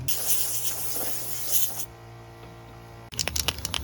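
Bursts of aerosol spray as Tamiya PS31 paint is misted onto a clear lexan RC car body, a hissy spray for under two seconds, a pause, then short sputtering spray bursts.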